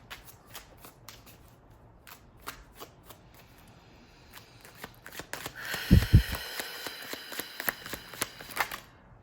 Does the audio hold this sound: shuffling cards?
yes